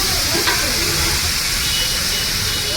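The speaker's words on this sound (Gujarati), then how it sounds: "આપણે બટેટા નાખીને વઘાર કરી લીધો છે" Potatoes crackle and sizzle in a hot oil tempering with asafoetida for a rice dish, a loud, continuous frying hiss with occasional stirring, close by.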